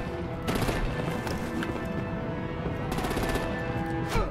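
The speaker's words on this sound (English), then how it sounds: "Break out the artillery and disable their vehicles!" Sustained gunfire from the Batman: The Enemy Within video game, dense machine-gun bursts rattling continuously under a busy battle mix, with sharper volleys near the start and end.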